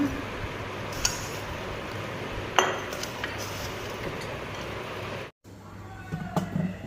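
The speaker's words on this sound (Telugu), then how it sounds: "ఇదిగోండి సీసాలోకి ఎత్తుకుందాము." Amla pickle pieces scooped into a glass jar, faint clinks and scrapes of a spoon against glass over a steady background hiss, with a few sharper taps near the start.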